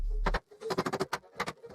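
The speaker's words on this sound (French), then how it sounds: "J'ai utilisé un marteau pour le mettre en place." A hammer taps shiplap siding into notches on a wooden dog kennel, a quick series of sharp, close knocks in an uneven rhythm, a few isolated and others clustered together.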